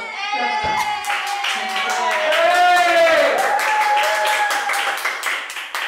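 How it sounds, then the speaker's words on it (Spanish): An applause sound effect plays as rapid, steady clapping from a crowd, mixed under a speaking voice and tonal music-like sounds, fairly loud and close. "Tengo que, a juro, poner un efecto de aplauso"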